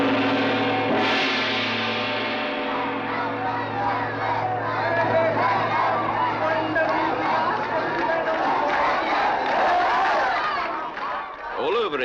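A crowd at a Thaipusam religious festival in India yells and cheers in a dense, continuous roar of voices, with shouting and babble throughout and a swell of noise near the end.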